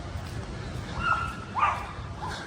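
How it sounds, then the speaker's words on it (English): A dog gives a couple of short, high yips and whimpering barks, fairly close, over low background noise, beside a collapsed, emptying canal. "That's Sebastian barking, he doesn't know what's going on."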